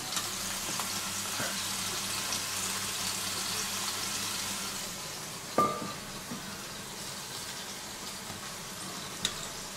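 Egg-soaked bread slices for Arme Ritter frying in a pan, a steady soft sizzle with a couple of brief sharp knocks partway through and a faint clatter near the end.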